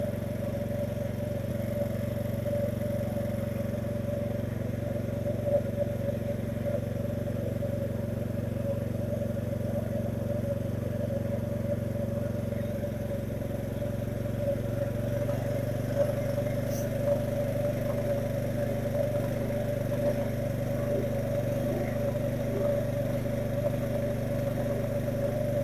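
A Powersmart 3600 watt budget inverter generator runs at a steady idle under a small load, its even mid-pitched engine drone and humming tone holding constant without revving.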